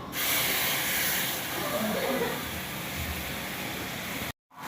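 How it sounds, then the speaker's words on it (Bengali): Spice paste hits hot oil with browned cumin and sizzles loudly with a broad steady hiss that eases slightly as it goes on, close up, before a brief cut. "জিরেগুলো লাল লাল হয়ে গেছে, ওর ভিতরে আমি পেস্ট করা মশলাগুলো ওর ভিতরে দিয়ে দিলাম।"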